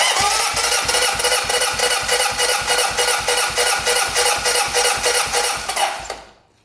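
Honda CB 750 engine cranking over on the starter with the throttle held open during a compression test, a fast steady rhythmic chugging pulse for about six seconds before stopping abruptly.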